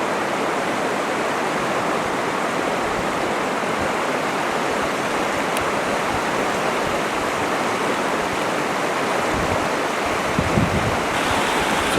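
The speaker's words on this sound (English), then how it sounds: "It's an awful swift flowing river." Steady, full-bodied rush of fast-moving river water, a continuous broadband roar close by with no pauses and no voices.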